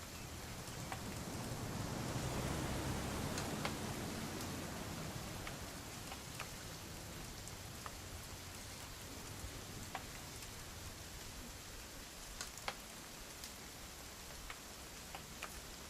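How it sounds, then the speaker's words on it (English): Steady rain in the video game What Remains of Edith Finch hisses on and on, a dense wash of falling drops with a few sharper taps standing out, with no voices over it. "It's gonna rain the whole weekend,"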